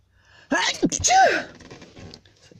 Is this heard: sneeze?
yes